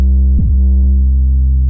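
A loud, sustained 808 bass note from the Sub Lab plugin, run through its tube distortion setting, gives a warm, thick low drone with a brief pitch-drop wobble near the start and steady harmonics throughout.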